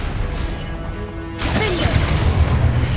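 A Confringo explosive spell goes off in Hogwarts Legacy as a sudden loud blast partway through, leaving a broad crackling, rumbling roar that carries on after a quieter stretch of game sound.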